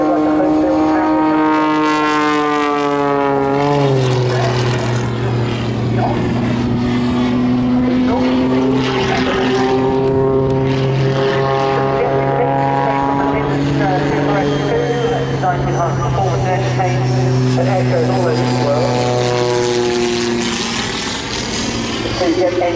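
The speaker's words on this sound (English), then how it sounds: "The two jet engines, as we said earlier, the big turbojet designed and built by RTNL" Continuous roar of the Jet Pitts aerobatic biplane with two turbojet engines, flying a display at Southport Airshow 2024, its steady engine tone sliding slowly in pitch throughout while a commentator talks over it.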